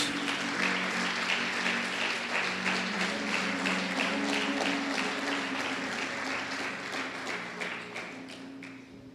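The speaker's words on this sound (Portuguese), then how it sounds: "Quem pode aplaudir ao Senhor por isso?" A congregation in a church service claps together, with dense, steady applause and a faint rhythmic pulse that tapers off slightly toward the end.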